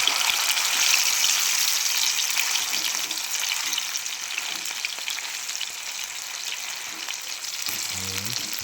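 Food frying in hot oil gives a loud, steady, bubbling sizzle up close, continuing evenly throughout with a short low sound near the end.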